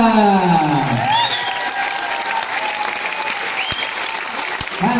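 Loud, sustained applause from a concert crowd at a music awards event, a dense continuous roar of clapping with light cheering, while gliding, sweeping musical tones and a voice sound over it near the start.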